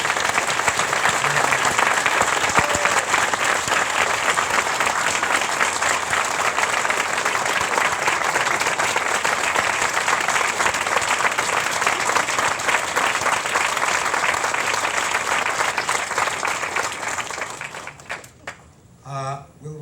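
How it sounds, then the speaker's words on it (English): An audience at a university fellowship event gives long, steady applause for almost twenty seconds, a thick, even roar of clapping that fades into a few scattered claps at the end. "I would ask you to applaud him again for his love of what he has done here"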